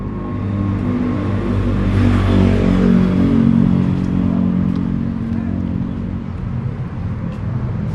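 A taxi cab drives past on a street near Kamala Beach in Phuket, its engine rising loud and close as it approaches, then fading into general road noise.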